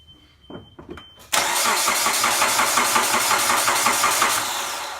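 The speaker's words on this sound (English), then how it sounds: "Let me ring the engine over, we'll see what happens." A Suzuki SX4 engine under ignition troubleshooting is cranked over with a few short bursts, then starts and runs with a loud, steady, rough mechanical churn that continues close up to the end.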